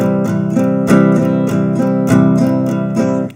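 A guitar is strummed in a steady 16th-note pattern, with evenly spaced, bright chord strokes repeating at a brisk even pulse, close and loud with no talking.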